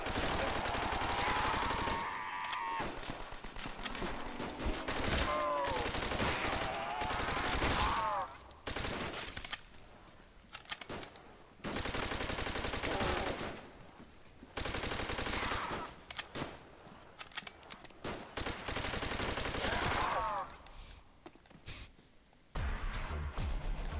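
Sustained automatic gunfire in a custom zombies video game, long loud rattling bursts broken by short pauses across the stretch, with occasional gasping and groaning creature sounds mixed in and no clear talk.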